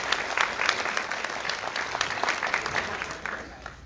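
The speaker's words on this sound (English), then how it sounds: "I'd ask Dr. Patton to come and give him a round of applause as we welcome him." A church congregation at a Sunday service in Trinidad gives a round of applause: dense, steady clapping from many hands that carries on for about four seconds before easing off slightly at the end.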